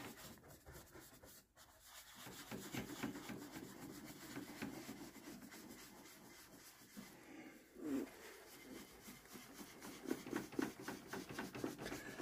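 A natural bristle brush swirls paint over a surface, working the edges of a blended finish, giving a steady soft scrubbing rub close up, with a brief pause early and slight bumps in intensity as strokes change.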